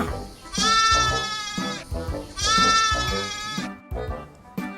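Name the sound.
lambs bleating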